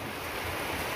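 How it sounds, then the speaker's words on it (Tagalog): Heavy rain pouring down outdoors, a steady, dense broadband roar with no breaks and no voices. "malakas na naman yung ulan"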